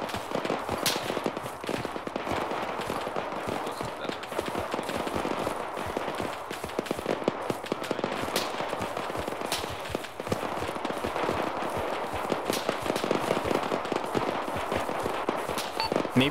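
Dense, continuous exchange of rifle and machine-gun fire in an Arma military battle on Chernarus, bursts overlapping at mixed distances with no pauses across the whole stretch.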